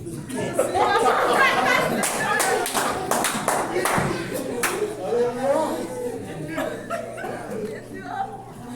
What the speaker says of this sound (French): Applaudissez-moi pour ça.